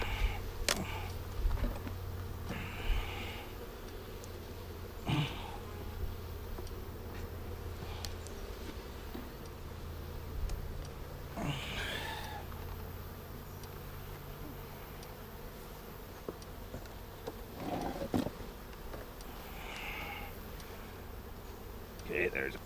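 Honey bees buzzing around an open package bee colony hive during a beekeeping inspection, a steady droning hum with close bees passing by and occasional handling knocks.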